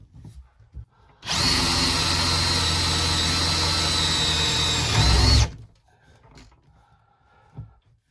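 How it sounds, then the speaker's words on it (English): A power drill bores a hole through wood. One loud, steady whine runs about four seconds, then stops, with faint handling noises before and after. "So here we go with drilling a hole."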